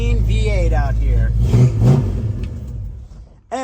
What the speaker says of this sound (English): the revs on this car, oh, it's a big burly mean V8 out here